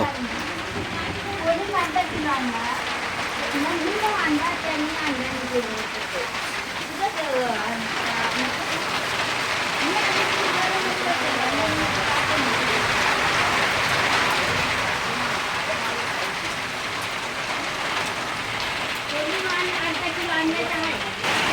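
The season's first monsoon rain falls steadily on a Ratnagiri village, a constant even wash of drops with faint thunder, while someone talks over it throughout.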